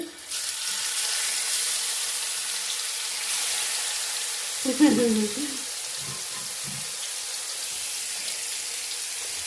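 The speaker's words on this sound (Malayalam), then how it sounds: "ഇവിടെ മീൻ്റെത് നമുക്ക് എണ്ണ ചൂടായി മീനിട്ട് കൊടുക്കാം കേട്ടോ" Fish dropped into hot oil sets off a loud, continuous sizzle and hiss, with a brief bubbling burst as the pieces go in and quieter crackling afterward.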